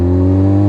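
Loud, steady engine drone from a motorcycle exhaust held at high revs, with strong low harmonics that barely waver over a brief moment, riding on the 4th of July.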